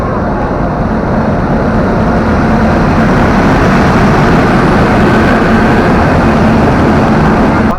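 Steady, loud low rumble of a train engine running continuously, heard from inside a fairly empty train bound for Raichur, with a broad mechanical drone and no clear speech.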